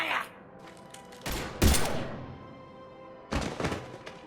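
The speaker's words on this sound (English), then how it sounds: "Now open fire!" Gunfire in the Mass Effect 3 video game, three separate loud cracking bursts spaced apart, the middle one the hardest hit, with quieter ringing ambience between shots.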